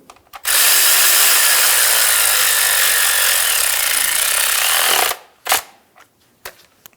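A power tool snugs down the ignition coil bolt on a 2000-2007 Ford Focus 2.0L four-cylinder engine. It gives one loud, steady whirring burst of about four and a half seconds, followed by a few short clicks and knocks.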